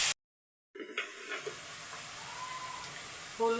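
Paneer kasundi ingredients fry in a pan, a soft sizzle that starts after a brief silence and continues faintly, with a light clink near the end.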